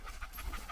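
Dogs panting hard on a mountain hike after running, a quick close rhythm of about five breathy huffs in under a second, loud and alone.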